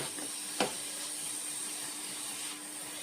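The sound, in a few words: onions sautéing in a pan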